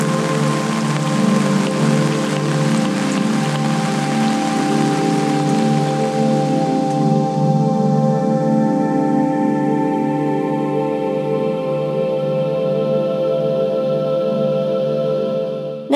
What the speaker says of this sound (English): The rains accompanied a spectacular light show well into the night.